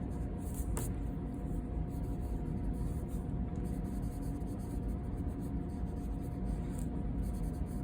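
A pencil draws bubble letters on paper, giving a faint, steady scratching that runs continuously under a quiet background hiss, with no talking.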